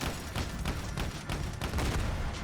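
Rapid-fire artillery weapon from a video game battle pass, shooting a fast, steady stream of booming shots with heavy low rumble, loud and continuous with no talk.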